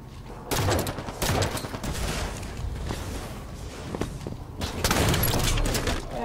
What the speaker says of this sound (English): I got a little bit of reach on that shotgun there